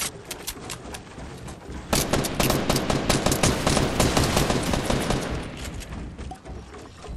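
Rapid automatic gunfire in the video game Fortnite, dense bursts of shots that start lighter, then swell into a loud, sustained fusillade and trail off, heard alone without talking.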